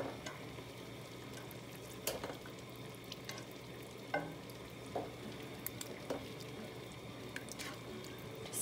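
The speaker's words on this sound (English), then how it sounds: "And then I'll stir it around." A spoon stirs water into chili in a pot, soft scraping strokes and light sloshing with faint sizzling underneath, the scrapes recurring irregularly and close by without speech.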